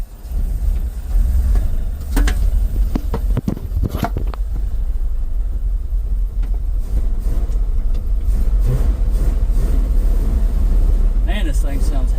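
Ford F350 dump truck engine running at a steady close idle, a low continuous rumble under scattered knocks and clunks, with a person speaking over it.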